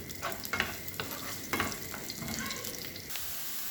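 Onion frying in hot oil in a kawali, with a steady close sizzle and a few sharp stirring scrapes, moderately quiet and with no talking.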